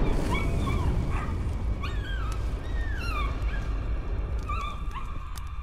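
Dog whimpering and yipping in the horror video game Layers of Fear, a series of high, wavering whines repeated across the clip over a low rumbling game ambience.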